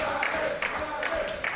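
Pro-Danielson wrestling crowd at a tag team match, a brief burst of cheering and rhythmic clapping rising and falling in quick pulses.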